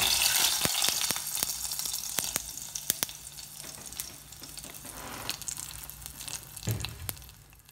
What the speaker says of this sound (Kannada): ಸಾಸಿವೆ ಸಿಡಿದ ಮೇಲೆ ಅದನ್ನು ಸ್ಟವ್ ಆಫ್ ಮಾಡಿ ಅದನ್ನು ನಾನು ಅದಕ್ಕೆ ಹಾಕ್ತಾ ಇದ್ದೀನಿ